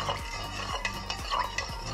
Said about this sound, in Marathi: त्याला आता चांगलं आपण हलवून घेऊया।